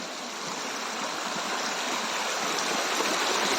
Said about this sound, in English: the force of the flowing water has increased, so it seems like the waterfall is not much far now